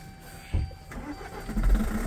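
A diesel jeep cranks and catches on the first try in snowy mountain cold, a thump of starter followed by a rough, close engine settling into a low rumble over about two seconds.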